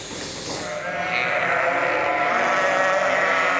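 Sheep or goats bleat at a sheep farm, a wavering, fairly loud call over steady farmyard background noise, with no talking.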